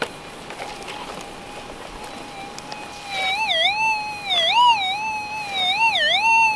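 A Minelab SDC metal detector sweeps a dry creek while gold prospecting, holding a faint steady tone before a louder warbling target signal rises and falls in repeated wavering swoops, with light background scuffing.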